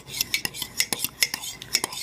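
A fork stirs homemade butterbeer in a cup, producing quick rhythmic metallic clinks and scraping swishes about eight times in two seconds, close and crisp with no talking.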